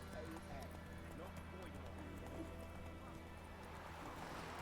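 A horse gallops with steady clip-clop hoofbeats in The Witcher video game, a constant rhythmic drumming under a game soundscape, with no talk.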